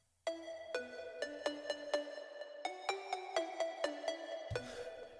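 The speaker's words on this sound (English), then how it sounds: "So first I have like a lead sound that's in the chorus." A slap house chorus lead built from two layered synths plays a plucky melody of evenly spaced, bright staccato notes with a steady rhythm, clear and upfront, ending in a low thump and wash.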